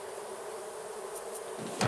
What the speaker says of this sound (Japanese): ここは蜂の巣がありまして、蜂の巣で蜂蜜が作れて、